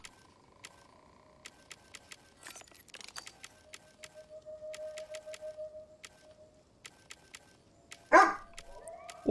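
A dog barks in a Star Wars Jedi: Fallen Order game session, a few sharp bursts near the end over soft ticking game sounds and a steady tone.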